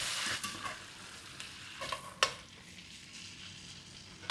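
Beef frying in butter in a pan for scouse stew, a soft continuous sizzle with faint stirring scrapes and a few brief clinks, fairly quiet and close, no talking.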